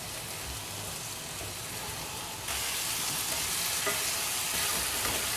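Small chopped bitter gourd pieces sautéing in a pan with salt, a continuous sizzle that grows noticeably louder and denser partway through.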